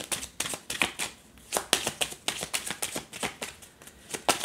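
Tarot cards being shuffled and drawn, a run of crisp riffling snaps and slaps at a quick uneven rhythm, close and fairly loud with no talking.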